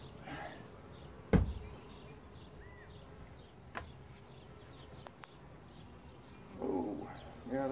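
Bees released into a museum display buzz steadily at low level, with a dove cooing and scattered knocks and clicks nearby.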